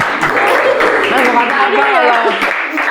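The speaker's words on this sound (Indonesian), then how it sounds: "Ayo kita tepuk tangan sekali lagi kita." Indonesian TV talk-show audience applauding, a dense steady wash of clapping that fills the whole stretch with voices mixed in underneath.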